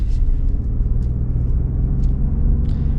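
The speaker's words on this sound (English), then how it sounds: "This engine isn't quite as smooth as the Ram's, but I still think it's, well, it's quite smooth." A 2026 Ford F-150 Platinum hybrid pickup's engine runs with a smooth, low, even rumble heard close from inside the insulated cab, with a few faint clicks over it and no speech.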